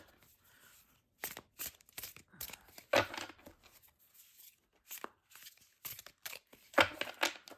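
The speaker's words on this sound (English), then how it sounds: "They shuffle nice and smoothly." A brand-new deck of floral tarot cards is shuffled by hand, giving quick crisp riffling and slapping bursts separated by short pauses, close and fairly quiet.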